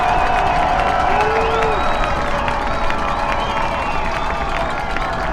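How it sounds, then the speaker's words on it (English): Crowd at a high school football game, Pine View at Ridgeline, roaring and cheering steadily throughout, with a dense broad wash of voices, a whistle-like tone and faint shouts rising above the noise. "And the crowd's on their feet."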